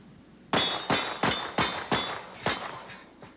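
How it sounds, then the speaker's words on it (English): Semi-automatic pistol shots in .45, 9mm or .38 Super hitting steel targets at a 1987 shooting competition, six sharp ringing clangs in quick, slightly uneven succession, then a fainter seventh, each with a short metallic decay. "In this event, the shooters are using semi-automatic pistols in either 45 caliber, 9mm, or 38 Super."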